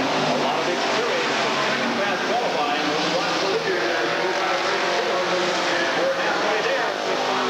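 Stock cars racing at Redwood Acres Raceway, a dense, continuous engine roar from the pack going around the track, with an announcer talking over it.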